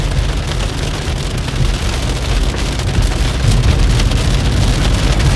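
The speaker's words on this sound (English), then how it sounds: "Oh, this rain is loud." Heavy rain pouring down, a loud, dense and continuous hiss of drops on surfaces that swells slightly toward the end, with no voices.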